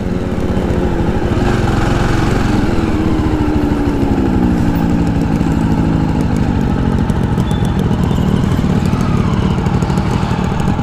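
A Jawa Perak motorcycle engine runs steadily and loudly at close range, a throbbing motor rumble that holds level throughout with no voices.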